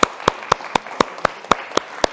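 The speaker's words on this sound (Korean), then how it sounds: "우리 영광의 박수 하나님께 올리겠습니다." A church congregation at a Korean mission church's Parents' Day service in Berlin claps in unison, about four even beats per second, with no voices.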